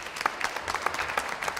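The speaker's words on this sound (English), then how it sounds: "Give yourselves another round of applause" Audience at a DPW training class in Baltimore breaks into a round of applause, a dense, steady clatter of many hands clapping at moderate distance for under two seconds.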